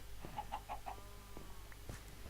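Minecraft chickens: several short clucks in a quick run, then a few scattered softer calls, quiet and slightly distant over a low background hum.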